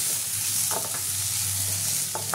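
Tomato and garlic fry in a pan with a continuous, close sizzle, broken briefly by a couple of short scraping stirs.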